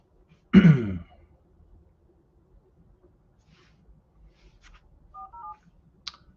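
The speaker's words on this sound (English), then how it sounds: "All right, so let's call Luis" Telephone keypad tones dial out to place a call, a short group of brief, faint beeps following a loud throat-clearing burst, with a final click and quiet surroundings.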